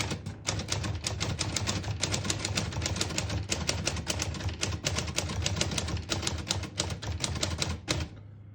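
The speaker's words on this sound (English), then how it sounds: "Very nice typing machine." A 1936 Corona Silent vintage portable typewriter types in a fast, steady run of crisp key strikes, close and clear, stopping abruptly near the end.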